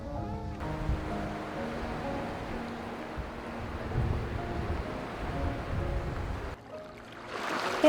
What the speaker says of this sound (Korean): 동글동글한 몽돌이 파도에 부딪히며 맑은 소리를 냅니다